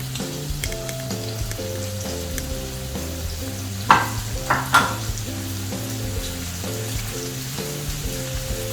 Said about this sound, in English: And my sauce is simmering away